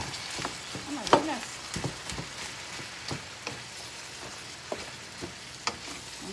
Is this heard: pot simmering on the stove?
yes